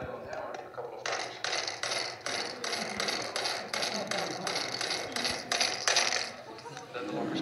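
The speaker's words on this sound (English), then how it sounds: "you hit the handle with a rubber or a nylon hammer a couple of times" Rubber or nylon hammer striking the handle of an electronic lock under tension, giving a run of sharp, fairly loud knocks and rattles in quick irregular succession over a steady background.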